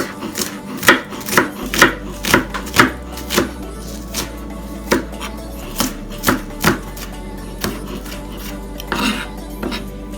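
Knife roughly chopping onion and scallion on a board, a run of about sixteen sharp close chops, quick and evenly paced at first, then spacing out and growing fainter.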